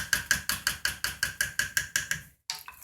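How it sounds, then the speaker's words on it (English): Turkey chili with salsa being stirred in a pot, a steady train of about a dozen wet scraping strokes in an even rhythm, close and fairly loud, then a brief pause and one more stroke. "It sounds so gross when you stir it"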